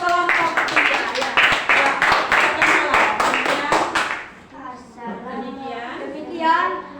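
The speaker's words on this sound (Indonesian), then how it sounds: "boleh tepuk tangan untuk kelompok ketiga ya" Classroom applause for a student discussion group, a few seconds of scattered hand clapping with children's voices, then the clapping fades out and someone speaks alone.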